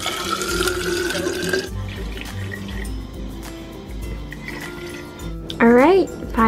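Water running from a tap into a bottle being filled toward about 500 milliliters, a steady close splashing rush with a brief higher gurgle near the end as the bottle fills, while someone speaks over it.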